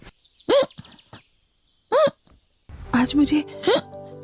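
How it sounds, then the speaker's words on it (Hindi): A woman hiccups repeatedly while hand-washing clothes, three sharp hiccups spaced about a second and a half apart, then a few words of speech over a background music bed. "तभी उसे बहुत ज्यादा हिचकी आने लगती है"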